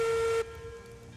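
Steam locomotive whistle in the railroad game Railroads Online: a single steady, piercing tone blown for under half a second, then cut off abruptly, leaving a low mechanical hiss and rumble.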